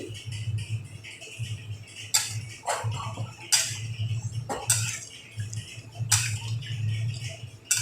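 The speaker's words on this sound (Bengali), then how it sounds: "ভালো করে সব মশলাগুলোকে মিশিয়ে দিচ্ছি আমি" A utensil stirring spices into potatoes and pointed gourd in a pan makes repeated scraping strokes and light metallic clinks in a loose rhythm, close and moderately loud over a low steady hum, with no talking.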